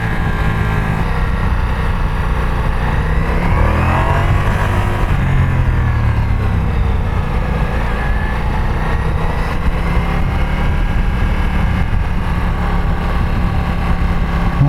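A Ducati Multistrada V4S motorcycle climbs the switchbacks and hairpins of Gurnigel Pass in the Alps, its engine a loud, steady drone that rises and falls in pitch with the revs, heavy wind rush blending in throughout.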